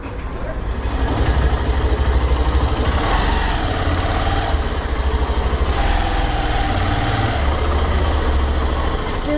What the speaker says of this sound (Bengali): এই তো আসতেছি বাইক নিয়ে।